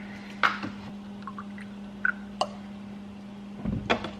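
A small splash of ammonia, about half a teaspoon, poured into a gallon plastic jug. It gives a few brief drips and glugs with short gaps between them, and a low steady hum runs underneath.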